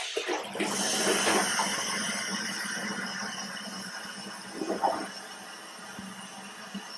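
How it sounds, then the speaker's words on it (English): A toilet flushes in a bathroom during cleaning, a loud broadband rush of water that swells early and then slowly drains and fades over several seconds, with a few small clunks toward the end. "While I'm doing this, I can go ahead and flush."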